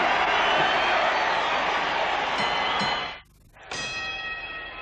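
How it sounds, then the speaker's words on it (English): Ringside bell at the Muhammad Ali vs Richard Dunn 1976 heavyweight title fight marks the end of a round; loud crowd noise fills the arena, drops off briefly, then a ringing bell tone sounds with sustained clear overtones. "The bell has sounded for round 3"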